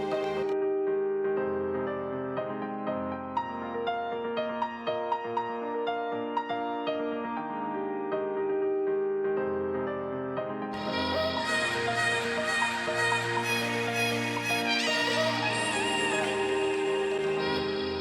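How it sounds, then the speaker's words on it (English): Sustained MIDI piano notes carry a slow melody in a bright vocal house track, layered with chords, and bright high tones join partway through. "this piano MIDI I drew in"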